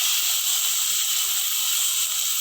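Spices sizzling hot in oil as a tempering for a chole curry, giving a steady, bright, continuous hiss with no pauses and no talk.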